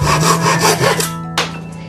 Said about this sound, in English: The steady rhythm of hammers and saws echoed through the open-air carpentry shed